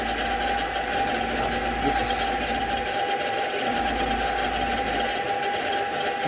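Sieg SX2 milling machine taking a big cut, a steady loud mechanical drone with a constant whine and motor hum throughout, close up and without talk.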